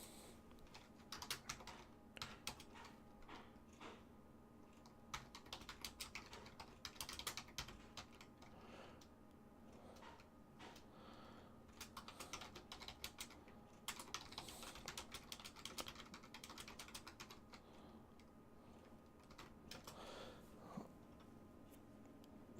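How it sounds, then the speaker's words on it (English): Steady keyboard typing on a computer keyboard during a live game tournament broadcast, bursts of quick key clicks continuing for over twenty seconds at moderate level with a low background hum, no talking. "I am typing."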